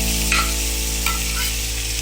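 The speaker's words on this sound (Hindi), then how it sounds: "और इनको अच्छे से हम मिक्स करके 1 मिनट तक भून लेंगे।" Boiled potatoes are stirred and roasted in a pan on low flame, giving a constant loud sizzle with a couple of brief scraping strokes from the spoon.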